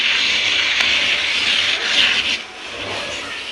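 An icing knife scraping and smoothing cream around the side of a rotating cake, a continuous close rubbing hiss with slight variations, no talk.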